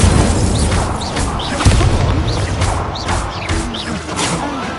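Incendio fire spells cast in the Hogwarts Legacy video game, a dense run of whooshing bursts, booms and crackling impacts stacked over a rumbling battle bed, loud and continuous.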